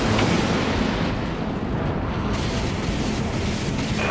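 A destroyed artillery cruiser in a space combat video game explodes in a loud, sustained rumbling blast, broad and roaring, with a second surge of debris-like crackle partway through.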